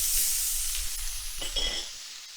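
Meat sears in hot oil in a pan on a homestead kitchen stove, a loud, close sizzle and hiss that fades gradually over about two seconds, with no talk.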